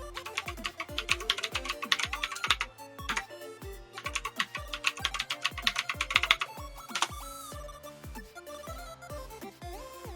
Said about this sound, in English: we're gonna type in the password that I use